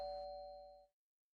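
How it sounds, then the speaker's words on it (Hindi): A doorbell rings once, a single clear chime that rings out and fades quickly to silence, heard alone. "दरवाजा खोल, घंटी बजी है।"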